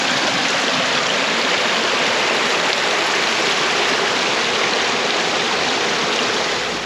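Creek water rushes steadily around a stopped side-by-side RZR on a Tennessee trail ride, a loud, close and continuous broadband flow with no breaks and no voices.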